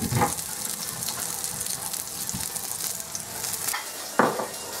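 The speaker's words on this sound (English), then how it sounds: "While the sausage patties are cooking" Sausage patties sizzle and fry steadily in a pan, a continuous close crackle with occasional louder pops and stirring clatter, no talking.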